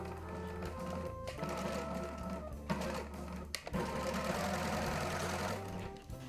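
A sewing machine stitches bias tape onto a dress, its rapid mechanical whirring and clatter running in bursts with short pauses between seams, close and fairly quiet.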